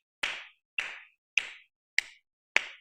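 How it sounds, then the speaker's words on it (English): Five crisp claras claps from three fingers struck against the palm, palmas style, crack out singly at a steady, regular pulse, each short and sharp with a quick decay into silence. "And then we have the claras. So you clap here with 3 fingers"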